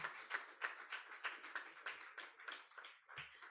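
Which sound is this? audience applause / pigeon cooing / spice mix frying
audience applause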